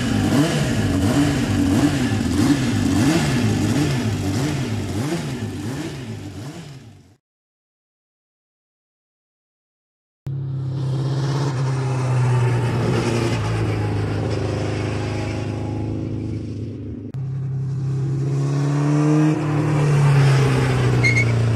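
Vintage race car engine doing its first laps on a circuit in about fifty years, loud close revving with rising and falling pitch sweeps, then a gap of silence before a steady heavy roar resumes.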